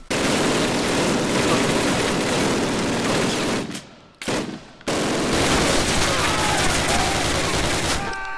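Dense, continuous gunfire in the World War II shooter Call of Duty WWII, loud and sustained with a brief gap partway through before the firing resumes.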